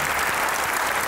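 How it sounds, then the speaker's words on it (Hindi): Brief burst of studio audience applause on a television comedy talk show, a dense even wash of clapping heard close and steady throughout. "आपकी भरपूर तालियों में।"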